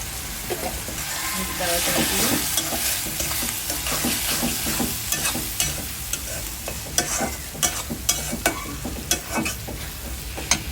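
Brain frying in a pan with turmeric and cardamom, a spoon stirring and scraping through it in irregular strokes over a soft, continuous sizzle, with sharper clinks growing toward the end, heard up close.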